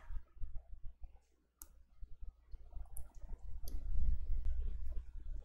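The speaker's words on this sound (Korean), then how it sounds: "이 벌어지는 쪽 바로 위에 있는 이 선을 따라서 그대로 접어주세요." Sharp crisp clicks and soft rustles of origami paper being folded along a crease while making a handled paper flower basket, close and intermittent, with a low background hum and no talking.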